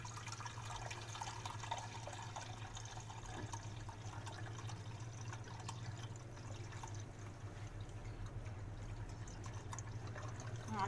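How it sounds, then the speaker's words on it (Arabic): Warm water poured steadily into a tray holding cups of homemade yogurt, a continuous close watery rush lasting throughout with no talk. "هنبتدي ان احنا نصبها في الصينيه اللي احنا حاطين فيها الكوبايات"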